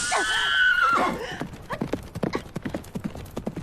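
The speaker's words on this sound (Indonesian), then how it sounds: "Dia menusuk pantat kuda peri kecil dengan kayu berapi sehingga kuda itu lari kesakitan." A cartoon horse gives a loud, high whinny that fades into a rapid run of hoofbeats clip-clopping away, as though bolting off in pain.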